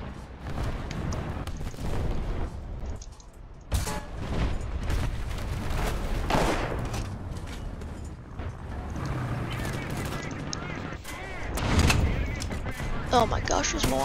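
Repeated gunfire and booming cannon shots from a game featuring a Churchill Crocodile tank, sharp bursts scattered through the stretch, some loud and near, others farther off, with a player talking over them.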